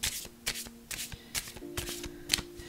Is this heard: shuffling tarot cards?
yes